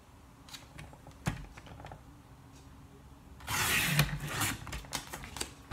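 A sheet of A4 card being cut in half for a mini album: a few quiet clicks and handling noises, then a louder stretch of crisp slicing and rustling, close up with no talk.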